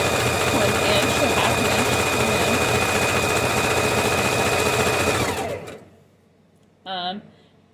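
A sewing machine runs at a steady whirring hum while stitching a seam for about five seconds, then stops abruptly. A short voice follows in near silence.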